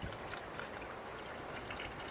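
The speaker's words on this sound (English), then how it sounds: "And now it just pours in like water." Thin yellow engine-flush detergent pours into a Toyota Tundra engine, a faint, steady liquid trickle that runs evenly and without pause.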